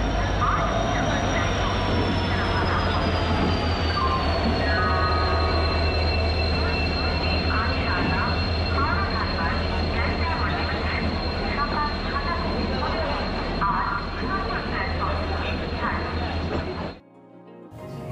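The Ispat Superfast Express, Howrah to Titlagarh, runs along the rails in a loud, continuous roar and rumble with a high wheel squeal, close by, then cuts off abruptly near the end.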